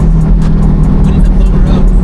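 A Chevrolet C8 Corvette with rolling antilag rumbles loudly inside the cabin, its engine droning low with a series of sharp, rapid pops and bursts, and a voice partly audible over the noise.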